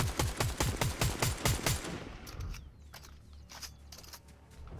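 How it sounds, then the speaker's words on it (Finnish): Automatic gunfire from the video game Fortnite bursts out in a rapid, loud string of about a dozen shots, followed by quieter scattered game sounds and faint distant shots. "Mä ammun randomilla."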